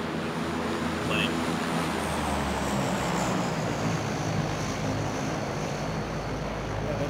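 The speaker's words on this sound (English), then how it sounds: "Plane." An airplane in the video game PUBG flies overhead as a low, steady engine drone that persists for several seconds under heavy wind-like rushing, with a faint higher whine drifting across.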